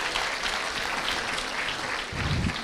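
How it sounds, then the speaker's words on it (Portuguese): A church congregation applauds a pastor, a dense, steady wash of clapping that fills the room throughout, swelling slightly toward the end. "Você pode recebê-lo com um aplauso ao Senhor Jesus pela vida dele"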